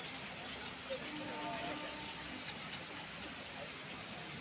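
Heavy rain pours at a railway station on the Kozhikode to Ernakulam line, a dense, steady hiss filling the whole scene with faint tonal hums and a distant murmur beneath it.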